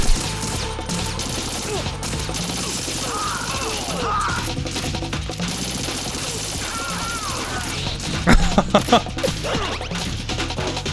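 Gunfire in the Metal Gear video game, with a dense, noisy stretch of shots and impacts and a louder cluster of bursts near the end.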